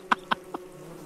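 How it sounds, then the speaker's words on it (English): Bees buzz in an action video game in three short, loud bursts, the third fainter, each a quick angry insect whine standing alone over a low steady background hum. "Ah, bees! Bees attacking the seeds!"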